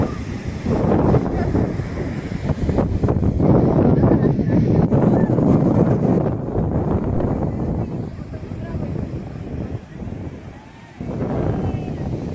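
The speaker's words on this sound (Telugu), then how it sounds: "సముద్రం చాలా పోటు మీద ఉంది, వాటర్ గట్టిగా వస్తుంది" Sea at high tide with strong water surging against a shoreline wall, a loud continuous roar of surf and rushing water buffeted by heavy wind noise on the microphone.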